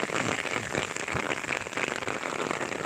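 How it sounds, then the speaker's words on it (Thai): Heavy April rain pours steadily in Thailand, a dense continuous hiss of drops striking surfaces, loud and close with no voices. "ฝนตกแบบน้ำไหลแบบยัวยะยัวยะเลยฮะ"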